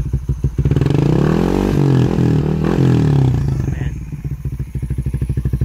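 A Rusi Raider 150 Fi motorcycle fitted with a Red Leo power pipe idles with a putting exhaust, revs up into a loud roar, then drops back to a lumpy idle close by, with one brief spoken word.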